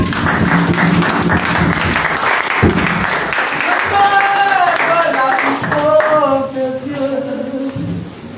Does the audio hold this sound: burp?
no